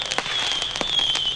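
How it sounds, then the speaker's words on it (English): Fireworks bursting at the close of a funeral service, several sharp crackling pops in quick succession over a continuous high whistling hiss, loud and fairly close. "The service ended with fireworks"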